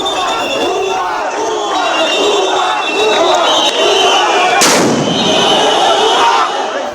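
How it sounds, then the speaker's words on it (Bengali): Police sound grenade thrown to disperse protesting teachers, a single sharp bang near the middle cutting through a loud, shouting crowd. "অবস্থানরত শিক্ষকদের ছত্রভঙ্গ করতে এভাবেই নিক্ষেপ করা হয় সাউন্ড গ্রেনেড।"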